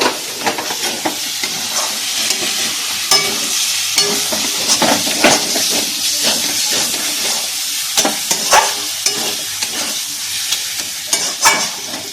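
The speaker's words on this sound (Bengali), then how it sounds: "তারপরে এটাতে আমরা মটনটা অ্যাড করে দেব। দেখো কি ভালো রংটা লাগছে" Mutton sizzles and fries in a pan for curry, with loud steady hissing and occasional stirring scrapes close by, with no voices.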